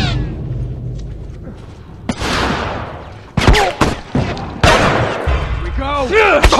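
Gunfire and booming blasts in The Last of Us, several sharp loud shots and heavier bursts in quick succession, with someone talking over parts of the action.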